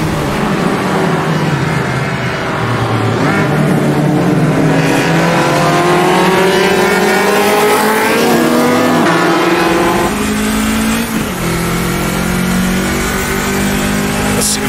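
Race cars in the Automobilista 2 sim roar continuously, engines revving and shifting up and down with layered whines from the pack, loud and close throughout.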